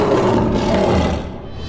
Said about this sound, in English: Give a roar, Mr. Lion.